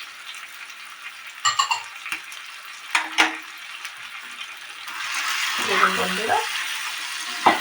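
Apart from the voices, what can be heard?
stir-frying grated carrot and beetroot in a pan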